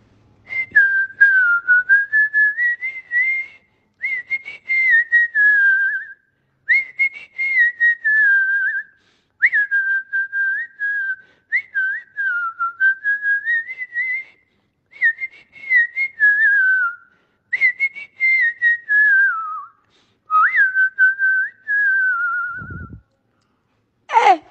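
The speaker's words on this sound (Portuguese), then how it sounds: "porque o assobio é tipo assim." A person whistles a wavering tune in clear, separate phrases with short pauses between them, close and alone, ending with a brief noise.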